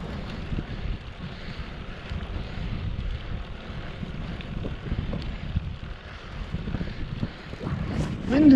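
Strong wind roars steadily into the microphone while cycling a single-speed bike through open country in New South Wales, a continuous low buffeting rush that swells toward the end.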